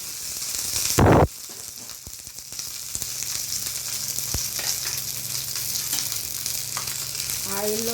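Okra pieces fry in hot oil with a steady, broad sizzle throughout, punctuated by a loud clatter near the start and occasional stirring knocks.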